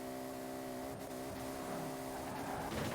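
Koenigsegg-style car with a 2JETZ engine in Forza Horizon 4 revs hard and steadily, its tonal engine note climbing toward the top of the gears, loud and close throughout with no talking.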